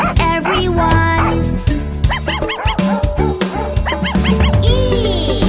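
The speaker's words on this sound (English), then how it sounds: "The dog barks at everyone." A cartoon dog barks in a children's alphabet animation, several short yips and bow-wows over a bright musical backing.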